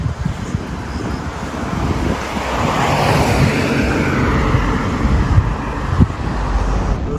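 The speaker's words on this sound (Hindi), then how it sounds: "यार हवा चलने लगी तेज़" Strong wind gusting steadily at night beside jungle near Dhikuli village in the Jim Corbett area, a broad continuous roar with buffeting rumble on the microphone and a few brief knocks, no voices.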